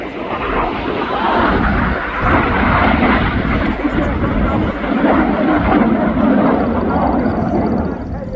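Jets fly past at a seaside airshow in Swansea, a loud broad engine roar that swells and holds steadily, with a commentator's voice running over it.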